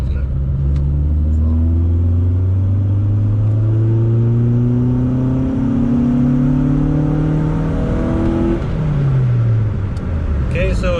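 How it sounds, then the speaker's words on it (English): Car engine revving through a third gear tuning pull on a street, loud and close, its pitch climbing steadily for about eight seconds before dropping off as the throttle closes. "We're good to do another third gear pull when you are."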